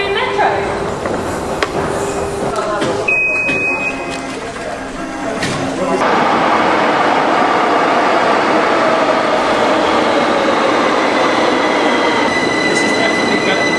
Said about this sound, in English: We're going to get on the Algerian metro.